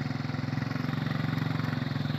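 A motorcycle engine idles steadily close by during riding practice, a continuous low throbbing rumble with a fast even pulse and no talking over it.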